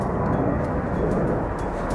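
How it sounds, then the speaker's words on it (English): Airplane flying overhead, a broad steady rumbling roar that fills the clip at constant loudness, with no speech over it. "Hey, look, another plane."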